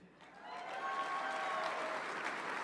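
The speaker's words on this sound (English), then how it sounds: "a nice round of applause for the 2024 MEAC Players of the Year" Sustained audience applause at a college football awards dinner, a dense steady clapping that swells slightly and holds for nearly three seconds, loud and continuous with no speech over it.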